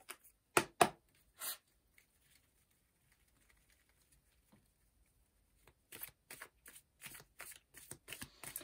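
Tarot cards being shuffled in short crisp riffles, a few quick bursts at the start, then a pause, then a rapid run of close, sharp card flicks toward the end, with no talking.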